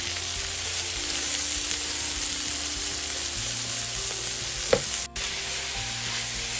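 Beetroot leaves sauté in a pan with a steady, close, even sizzle and occasional faint stirring clicks, and no voices.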